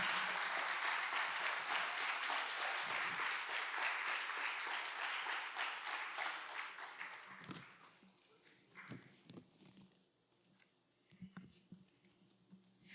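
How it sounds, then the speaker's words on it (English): Church audience applauding a pastor, a dense, sustained round of clapping that holds steady for several seconds, then thins into scattered claps and fades to near quiet. "Let's give him another round of applause"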